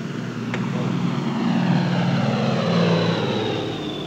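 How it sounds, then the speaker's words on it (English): A U.S. Air Force weather plane flies over the Caribbean, giving a steady, loud engine drone that swells slightly and then eases back over a few seconds, with no voices. "U.S. Air Force weather planes scour the unpredictable Caribbean."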